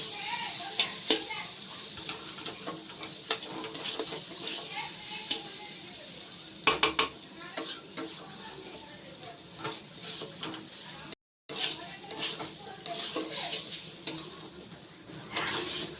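Sama rice and dal fry with spices in a pan for khichdi, a low sizzle broken by frequent spatula scrapes and clicks during stirring, with a brief dropout midway.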